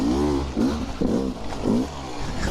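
An enduro motorbike climbing a dirt bank, its engine revving in rising pulses about three times, close and fairly loud.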